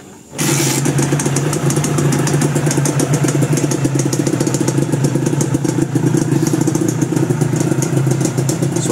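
A Honda NSR 250 MC21 motorcycle engine cranks and catches, then settles into a loud, steady idle with a rapid, even chugging close by.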